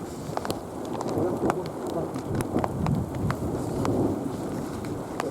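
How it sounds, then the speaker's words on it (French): Steady heavy summer rain pours down with sharp drop impacts throughout, and a low rumble of thunder rolls beneath the downpour. "c'est des orages d'été, hein."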